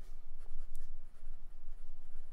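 A fountain pen with a wet nib and KVZ Azur 5 ink scratches across Oxford Optik paper in soft, rhythmic strokes, close and steady.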